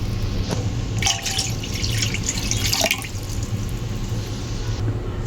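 Water splashes and trickles steadily into a cooking pot while making a Visayan vegetable stew, with a louder burst of pouring partway through, close by in a quiet kitchen.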